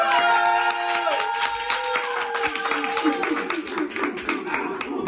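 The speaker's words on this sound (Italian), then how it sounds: "Applauso." A small group of people claps irregularly, with scattered distinct hand claps under ongoing voices and some tonal background sound.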